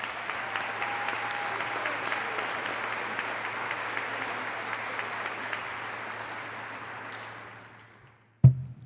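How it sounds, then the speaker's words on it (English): Applause from the audience at a 2018 awards luncheon, steady and sustained for about seven seconds before it fades out, followed by a brief thump. "a round of applause"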